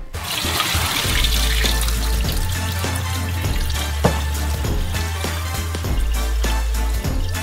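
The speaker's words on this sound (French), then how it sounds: "Maintenant, on n'a plus qu'à les rincer. Au bout de 15 minutes, égouttez l'eau." Water runs steadily and splashes as potatoes are rinsed and drained for homemade fries, a continuous close rushing flow with a low rumbling undertone.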